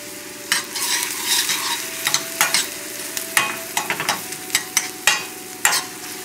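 Potato and spinach cakes fry over a high flame in clarified butter, a steady close sizzle broken by frequent sharp stirring and scraping clicks, with no talking.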